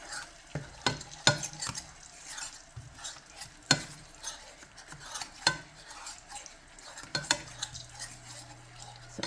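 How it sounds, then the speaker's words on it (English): Spinach sautéing in a little oil in a pan, a close, soft sizzle broken by frequent spoon and pan clatters and scraping stirs, with no talking. "I did decide I'm going to saute the spinach"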